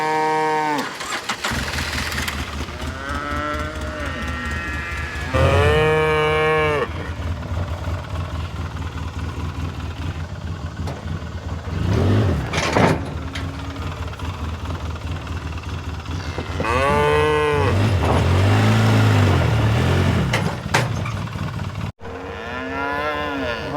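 A herd of cattle moo repeatedly, long low bellows coming from several animals at close and middle distance, spaced across the stretch with an engine rumbling in the background.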